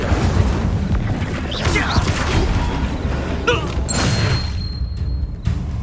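Incendio fire spell cast during combat in Hogwarts Legacy, sharp whooshing bursts and crackling impacts over dense battle noise, with a bright flare of sound midway and another near the end.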